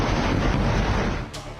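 Heavy rumbling blast from an Israeli air strike in Lebanon, a dense roar that fills most of the moment then cuts off into a short sharp crack and fading rumble, loud and close.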